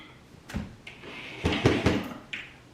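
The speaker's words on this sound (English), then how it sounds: "The infamous barn doors are coming down." Massive, heavy wooden barn doors are taken down in an artist's studio, giving a few sharp knocks and thuds in an irregular cluster at close range, with no voices.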